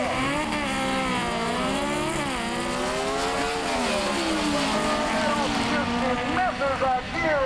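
A 1969 Camaro and a 150 cubic inch VW drag racing at a 1985 IHRA event, engines roaring and shifting through rising and falling revs, loud and sustained beneath an announcer's voice.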